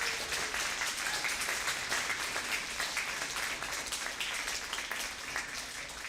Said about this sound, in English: please stand and let's give you a round of applause.